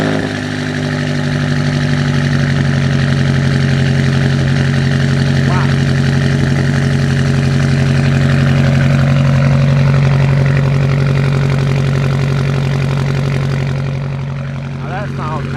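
A BMW M8 Competition fitted with downpipes idles nearby, a steady deep burbling drone that holds evenly throughout, with a faint voice talking over it.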